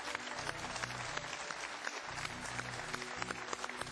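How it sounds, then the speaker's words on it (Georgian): A crowd applauds steadily for a few seconds, dense clapping at even strength. "აპლოდისმენტებით შევეგებოთ ამ არაჩვენებულ ადამიანს"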